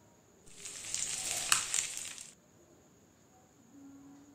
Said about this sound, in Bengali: আর এই যে এখন ডিমটা বসিয়ে দিয়েছি, ডিমটা একটু ভেজে নেব